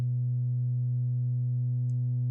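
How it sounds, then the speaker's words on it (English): A synthesizer tone reshaped by a skew control, sounding as a steady, loud buzzy drone with a low fundamental and a stack of even harmonics, holding unchanged throughout. "I'm going to adjust this skew parameter, which is going to change the shape of the sine wave."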